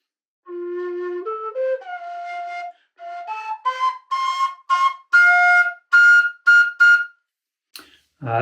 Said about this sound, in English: This particular low F whistle is quite comfortable getting up into the second range